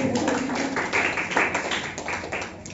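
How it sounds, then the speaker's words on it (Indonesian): Congregation clapping during a Sunday worship service at GBIS Kapernaum Surabaya, a brief burst of many hands with irregular sharp claps, fairly close and filling the room. "Kasih tepuk tangan bagi Tuhan"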